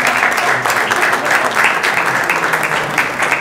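An audience at a public meeting in Locri applauds steadily, a dense, even patter of many hands clapping throughout.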